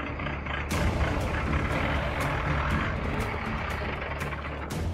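A goods truck rumbles loudly at close range as it comes to a halt, a sharp burst of broadband hiss near the start suggesting air brakes releasing, with engine noise steady throughout.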